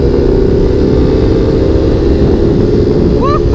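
A pocket bike running on nitrous only accelerates hard in a steady, loud, close engine drone that barely changes through the pull, with a brief higher whine near the end.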